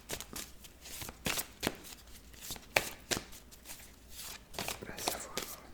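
Tarot cards being turned over and handled during a reading, a series of quiet papery slaps and shuffling flicks in irregular bursts, close and soft.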